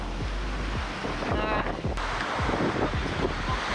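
Gusty coastal wind buffets the microphone beside an old abandoned whaling station at Norwegian Bay, loud low rumbling thumps pulsing irregularly over a constant rushing roar, with no voices.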